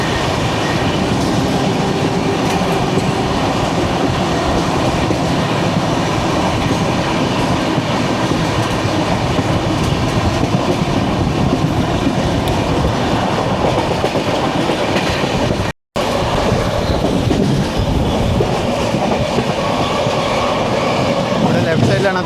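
Kerala Express running through Khammam station without stopping, a loud continuous rolling roar of the train with rhythmic clickety-clack of wheels over rail joints, broken by one very brief dropout near the end.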